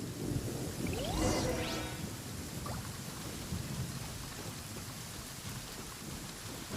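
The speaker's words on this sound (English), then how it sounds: "Uh-oh! Lightning storm!" A thunderstorm in the video game Rise Up, Golden Soul: steady heavy rain with a loud rolling thunder crack near the start, fading into continuous downpour.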